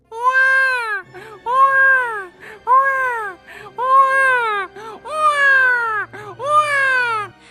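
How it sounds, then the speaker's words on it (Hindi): A baby cries from inside a dark cave in a series of loud, wailing sobs, about six drawn-out cries separated by brief gasping breaths, close and alone. "तभी अंदर से एक बच्चे के रोने की आवाज आने लगती है।"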